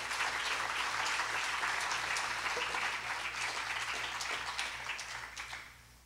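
Church congregation applauding during a sermon, a dense, steady roar of many hands clapping at once that holds strong and then fades toward the end.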